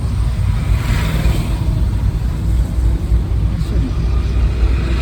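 A car is driven along a road, its loud, steady low engine and road rumble heard from inside the cabin, continuous without breaks, and no speech.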